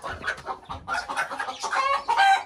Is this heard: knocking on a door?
no